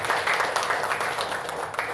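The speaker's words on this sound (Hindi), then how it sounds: "जोरदार तालियों से उनका धन्यवाद।" Audience applause at a tour operators association's anniversary celebration, a dense, steady wash of clapping from a crowd that holds at an even loudness for the whole stretch.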